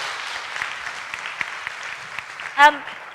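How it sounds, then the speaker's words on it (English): Audience applause at a success-skills event for international students: steady, dense clapping from a crowd runs throughout, and a voice briefly cuts in near the end. "Can we give him a round of applause, please?"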